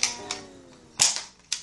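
A Nerf blaster gives a few sharp plastic clicks and snaps, loudest about a second in, spaced irregularly and close up, with no voices.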